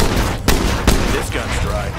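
Gunfire in State of Decay 2 cracks out as a couple of sharp, loud shots amid a dense, noisy combat background.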